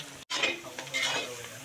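Chicken with onions, turmeric and meat spices is stirred in a pan, making a close, continuous sizzle with scraping strokes of a spoon and a brief break near the start.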